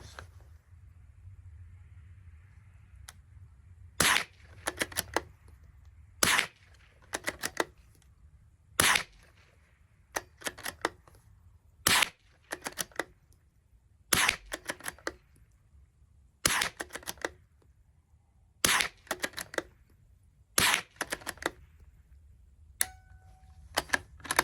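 A Ruger American .22 LR rifle with a Nikon ProStaff scope fires eight sharp, spaced shots, each a crisp crack over a quiet outdoor background.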